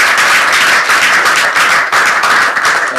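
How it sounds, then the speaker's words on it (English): A round of applause from the audience at a physics seminar, loud and close, a continuous dense patter of many hands clapping without pause for the full few seconds, with no voices over it. "Round of applause."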